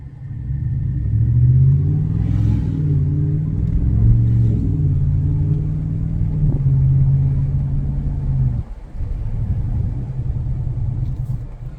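A 2021 Ram 1500 fitted with a Borla S-Type cat-back exhaust pulls away, its deep droning exhaust note rising and holding. It dips briefly and then rumbles on steadily, close and loud, with no voices.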